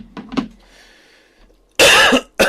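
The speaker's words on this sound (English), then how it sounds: "people on IG Live don't like that I'm coughing" A person coughs in two quick bursts near the start, followed by a faint lull and then a loud, harsh, close coughing fit with a short final hack.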